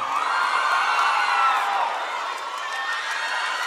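A live crowd at a band's concert show in a lounge club cheers, whoops and applauds continuously, a dense loud roar of voices and clapping throughout.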